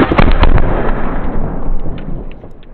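A two-pound charge of Tannerite detonates in one huge, close blast that fills the air, then rolls off into a long rumbling echo, with no talking.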